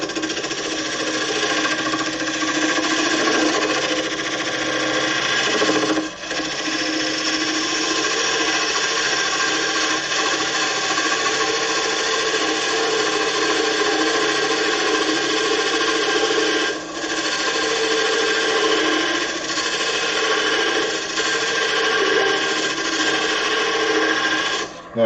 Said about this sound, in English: just cut in a valley with my parting tool